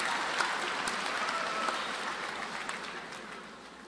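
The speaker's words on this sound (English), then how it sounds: "give them a round of applause" A large crowd applauds at a University of Florida engineering commencement ceremony, graduates clapping for their families in a dense, steady wash that fades slightly toward the end, with no talking.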